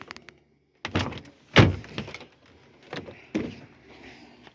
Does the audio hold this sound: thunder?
no